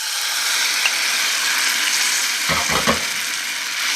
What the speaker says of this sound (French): J'ai mis de l'huile d'olive dans ma poêle. Et maintenant, je vais mettre mon steak.